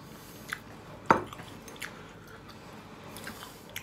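Chai kue dumplings with a soft wrapper being chewed close up, soft wet mouth sounds with one sharper bite near the middle and a few fainter smacks, no talking.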